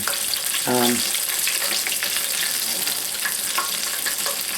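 Steady frying sizzle fills the clip, a dense crackling hiss of fish cooking in hot oil, with a brief clink near the start.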